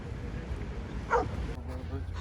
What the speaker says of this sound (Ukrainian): І ось видно, песики граються.